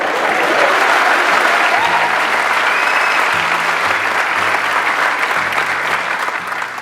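A seated audience at a business seminar claps loudly and continuously, a dense, even wash of hand claps that holds strong for several seconds, with a low hum running beneath.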